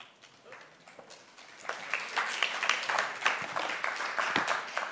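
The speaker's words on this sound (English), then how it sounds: "That's not a clap for me, that's a clap for all of you." Audience applause at a university surgery and interventional sciences student research symposium, starting sparse and quiet, then swelling after about two seconds into a dense, sustained round of clapping from a crowd, with no talking.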